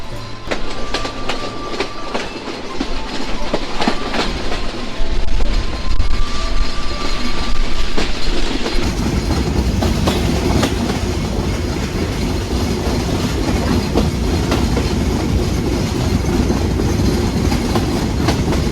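The Rupsha Express departs Chuadanga railway station toward Khulna, its wheels clattering on the rails and growing into a loud, steady rolling rumble with rhythmic clicks and brief squeals.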